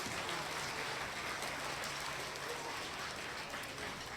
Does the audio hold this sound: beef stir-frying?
no